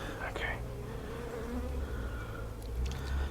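Honeybees buzz around an opened hive, a steady close drone with individual bees passing near, while a voice murmurs softly in the background.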